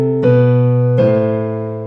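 Piano notes with the hands moving in opposite directions, the left hand descending while the right ascends: two struck chords about three quarters of a second apart, each ringing out and slowly decaying, close and fairly loud.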